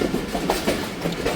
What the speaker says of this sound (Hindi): इस ब्रिज पे से आए हम लोग और बिल्कुल टनल के अंदर से फिर निकल आई ट्रेन।